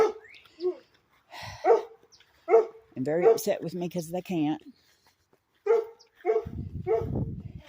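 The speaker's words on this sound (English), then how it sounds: "I got puppies in there barking at me because they want to come out." Puppies yap and whine in short bursts close by while a person talks over them.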